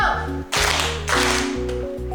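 A school class doing an ice-breaking clap routine claps together in a few short crisp bursts over a steady background tone.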